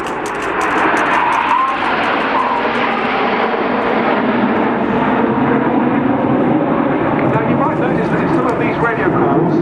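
Red Arrows jets pass in formation at a full air display, a loud sustained engine roar and rushing whine that swells and holds throughout, with voices audible over it.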